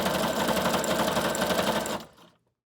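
Sewing machine stitching a quilted journal cover, a close, fast steady whir of needle strokes for about two seconds before it stops abruptly and fades to silence.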